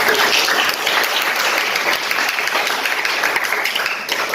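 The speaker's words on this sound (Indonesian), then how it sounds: "Berikan tepuk tangan." A classroom of students claps together in a lesson, producing continuous, fairly loud applause that holds steady from start to finish.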